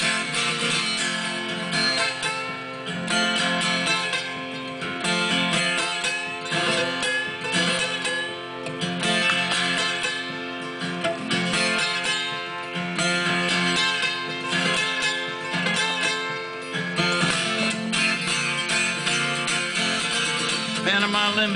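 Folk blues guitar and harmonica playing a train-whistle imitation for the Panama Limited, continuous and full with wailing sustained tones over steady strummed rhythm, close and loud with no voice.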